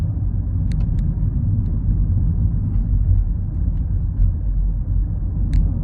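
A BMW 218i Gran Tourer cruising in fifth gear, heard from inside as a steady low engine and road rumble with constant tyre noise and a few faint clicks, no voices.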